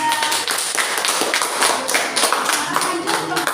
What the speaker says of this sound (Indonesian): beri tepuk tangan kelompok 3